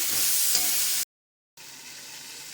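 Vegetables for ennegayi sauté in a hot frying pan with a steady, bright sizzling hiss, close and constant, cut by a brief moment of silence before the sizzle resumes.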